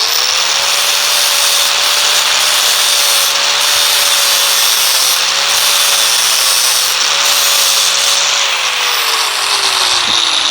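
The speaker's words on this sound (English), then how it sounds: "we gotta grind this down here" A power grinder grinds down a metal part on a Corvair during a fuel bypass installation, a loud, continuous high whine with a slightly wavering pitch throughout.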